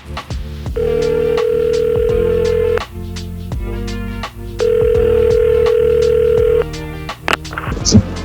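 A telephone rings twice in long electronic bursts separated by a pause, loud and close, with a brief clatter at the end as if picked up.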